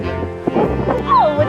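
Small dogs in jackets on a street in Florence, Italy, give short yips and barks and a brief whimpering whine, fairly close, mixed with a little background chatter.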